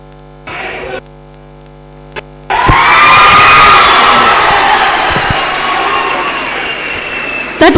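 A college farewell audience suddenly breaks into loud, sustained applause and cheering after a few quieter moments, the dense clapping and shouts filling the room and slowly tapering.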